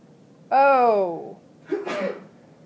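A loud, close sneeze in a chemistry classroom: a drawn-out voiced intake breaks into a short, sharp explosive burst, followed by quiet.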